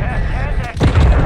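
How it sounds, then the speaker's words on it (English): A heavy booming blast from a cruise missile strike in Call of Duty Modern Warfare 2 lands suddenly after a brief rumble, loud and close, with a radio-style voice talking over it. "Requesting close air. Target mark. Trojan fixture. Cruise missile away."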